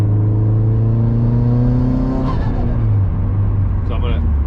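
A 2019 Subaru WRX STI S209 engine drones steadily at low pitch while the car drives, rising in revs partway through, loud and close throughout with a voice speaking over it.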